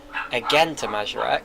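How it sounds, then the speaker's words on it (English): A pet dog barks and yips several times in quick bursts close by, mixed in with a voice talking over it. "Again, sorry about my dog."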